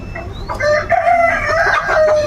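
Native hens on a large country-chicken egg farm cluck steadily and close by, with a rooster's crowing woven through the busy poultry chorus and no talk.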